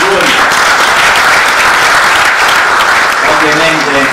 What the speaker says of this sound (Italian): un applauso al prefetto